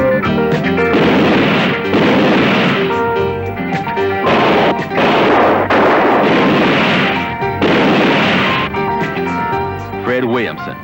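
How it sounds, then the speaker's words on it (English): Repeated heavy shotgun blasts in a 1970s grindhouse movie trailer, loud booming bursts that come in several separate waves, mixed with music and dramatic trailer sound. "With his shotgun on you, he'll blow you in two."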